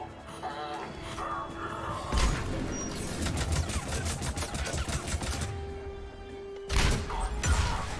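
A grenade explodes amid heavy gunfire during a firefight in the video game Mass Effect 3, with loud booming bursts near the start and again late, surrounded by dense, continuous weapon fire.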